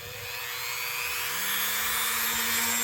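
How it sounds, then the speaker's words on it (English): Rotary tool with a felt pad and black emery buffing compound polishes a vintage Colonial Stockman pocket knife, a loud continuous high whine close up, rising slightly in pitch and intensity, with no talking. "we'll work with this black emery, the toughest of the cleaning compounds, buffing compounds."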